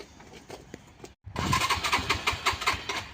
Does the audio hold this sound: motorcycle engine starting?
yes